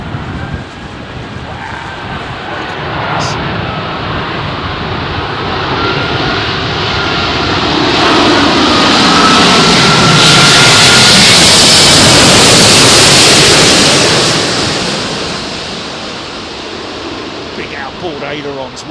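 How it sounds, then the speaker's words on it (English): A British Airways A380 lands at Heathrow in a crosswind, its engines a loud, swelling broadband roar that builds to a peak as it passes close overhead, then fades, with a faint rumble throughout. "British Airways 380. Look how sideways this thing is"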